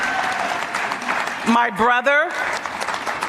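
Applause fills an awards dinner hall, a steady wash of many hands clapping throughout while someone speaks briefly over it in the middle.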